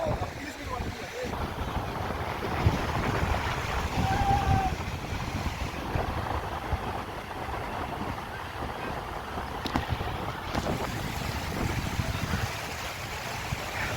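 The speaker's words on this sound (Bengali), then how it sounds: "অন্যান্য দিনের তুলনায় কিন্তু আজকে ঢেউটা বেশ ভালোই আছে" Sea waves at Bakkhali beach, a steady broadband wash of surf rolling throughout, moderately loud, with faint background voices.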